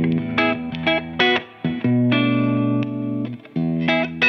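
An electric guitar runs through a Boss GT-1 multi-effects processor on a clean setting. Short chords and single notes ring out in bursts with sustained passages between them, close and fairly loud, with no talking.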